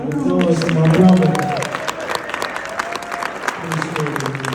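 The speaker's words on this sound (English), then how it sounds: "Round of applause to my brother." A small audience claps for a few seconds at a hip-hop interview event while people keep talking over it close by.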